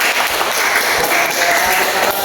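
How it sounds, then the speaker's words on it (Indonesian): A classroom of students applauds after group answers, steady dense clapping filling the whole stretch at close range with no talking. "Sekali lagi tepuk tangan kita semua"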